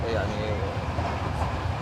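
A crowded train carriage in motion, a steady rumbling roar of the rolling coach with faint rail noise, murmuring voices mixed under it.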